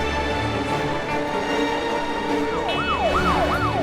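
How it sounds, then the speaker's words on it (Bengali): Police car sirens in a Bengali children's cartoon: rising and falling wails sweep in over a steady background hum in the second half, repeating several times at a fairly loud level with no talk. "এত পুলিশের গাড়ি কোথায় যাচ্ছে বুঝতে পারছি না।"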